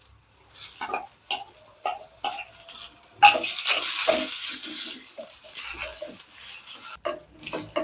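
Onion and coconut sautéing in a pan at home while preparing nethili (anchovy) fish kuzhambu, with repeated spoon scrapes against the pan, light clinks of utensils and a soft background sizzle.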